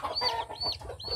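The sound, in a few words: chicks and chickens on a farm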